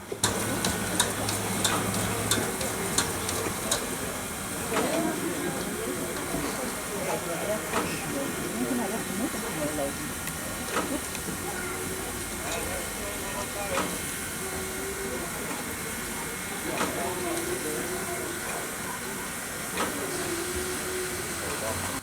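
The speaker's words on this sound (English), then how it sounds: "So after stopping at Apeldoorn on its own siding, the train needs to run around." German steam locomotive hissing and chuffing at a distance while running around at Apeldoorn station siding in the Netherlands, with steady rushing steam, occasional clanks and ticks, and faint voices in the background.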